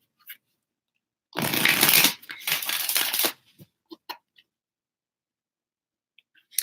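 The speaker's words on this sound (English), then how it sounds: "let's go ahead and get you guys more cards." Tarot cards are riffled and shuffled in two quick close bursts, then a few light snaps and taps as cards are drawn and laid down, with silence between.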